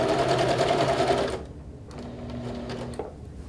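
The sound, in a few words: sewing machine sewing over an opened seam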